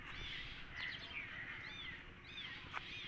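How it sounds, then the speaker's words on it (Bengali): Small birds chirp and twitter in a quiet rural countryside setting, several short, faint calls scattered over a soft steady background hiss with no voices. "আপনারা এখন শুনতে পাচ্ছেন পাখিদের কেচরমেচর।"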